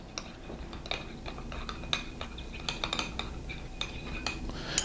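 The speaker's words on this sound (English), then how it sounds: "We're just going to stir that smooth." A spoon stirs cornstarch into a quarter cup of cold water, producing a quick irregular series of light clinks and scrapes against the container, close but fairly quiet.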